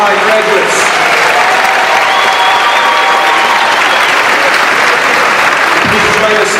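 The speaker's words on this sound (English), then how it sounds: "Let's give a big round of applause for our SUNY Delhi graduates" Loud, sustained crowd applause for SUNY Delhi graduates at a college commencement, thick continuous clapping with voices and cheers mixed in across the whole stretch.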